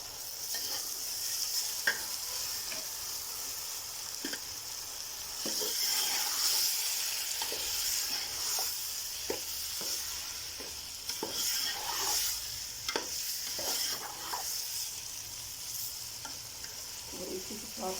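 Tomatoes hit a pan of frying onions and turmeric, setting off a steady close sizzle with scraping stirs and occasional spattering pops, no voices over it.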